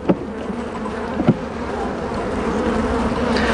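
Honey bees buzz steadily at close range as a hive is opened for a spring inspection, a dense continuous drone with a couple of brief knocks near the start.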